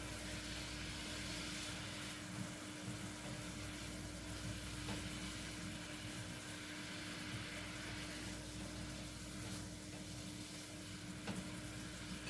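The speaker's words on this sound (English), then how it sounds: "give it a good stir" Apple pie filling simmers and is stirred in a pot: a steady low bubbling and sizzling bed with faint scraping, quiet and continuous, with no voices over it.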